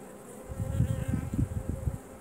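Carniolan honeybees buzz steadily at an open hive box holding emerging brood, a dense, close drone with pulsing swells and no voices.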